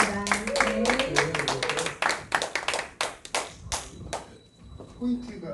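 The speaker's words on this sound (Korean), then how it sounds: "큰 박수 부탁드리겠습니다" Audience applause greeting a lecturer at a leadership and humanities talk, a dense burst of many hands clapping that fills the room, with a voice speaking over it and the clapping thinning out toward the end.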